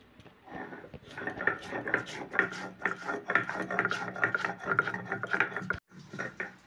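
Black cumin, white cumin, ginger, garlic, green chillies and a dried chilli being ground into paste, a steady rhythmic rasping and rubbing of stone on stone, close and continuous for several seconds with a short break near the end.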